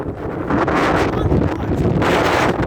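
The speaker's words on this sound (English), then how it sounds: "Windy, extreme wind." Loud, roaring wind buffets the microphone in heavy gusts, a continuous rushing blast with no voices.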